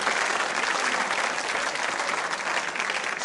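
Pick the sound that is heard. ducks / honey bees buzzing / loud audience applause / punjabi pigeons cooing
loud audience applause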